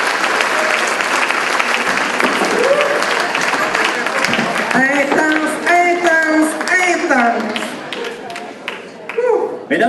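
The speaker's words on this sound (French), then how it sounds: "une bonne main d'applaudissements pour nos 4 invités de ce soir" A stage audience claps loudly for four guests at a live show, with dense, sustained applause. Voices and cheers come through as the clapping thins toward the end.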